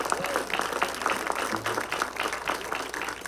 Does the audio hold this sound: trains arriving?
no